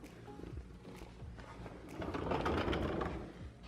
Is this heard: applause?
no